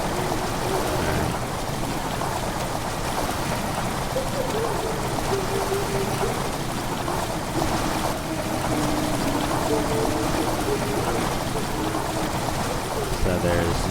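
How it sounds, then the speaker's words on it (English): Water rushing and pouring into a stone chamber in the horror game Amnesia: The Dark Descent, a steady broadband gush that holds for the whole stretch, with a brief spoken word near the start. "Water rushing into the chamber makes a strange sound."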